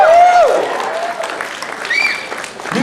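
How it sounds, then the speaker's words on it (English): A convention crowd breaks into applause for a birthday, loud clapping throughout with a few cheers and whoops rising over it. "Can we give this guy a round of applause?"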